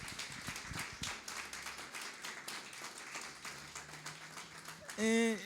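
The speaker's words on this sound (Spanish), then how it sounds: "¿Y por qué no le damos un fuerte aplauso a Dios por ese tiempo?" Church congregation at a Sunday service claps for God after prayer, a soft, fairly distant patter of many hands with faint murmured voices beneath, ending in a brief louder tonal burst.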